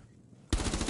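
A single sharp gunshot bursts loud and close from a firearm in the video game Rainbow Six Siege, its crack followed by a ringing, rapidly pulsing tail after a quiet moment of low game ambience.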